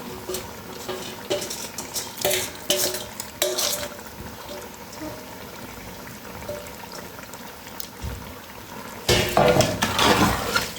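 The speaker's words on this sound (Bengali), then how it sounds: "ভালোভাবে আবার কষাই নিতে হবে মাংসটা" Meat is stirred and sautéed in a pot, with intermittent scraping and clinking of a utensil against metal, moderate in level, swelling into a louder burst of vigorous stirring toward the end.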